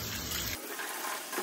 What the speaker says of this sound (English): Now it's time to take this thing to the shower and rinse the whole thing off again.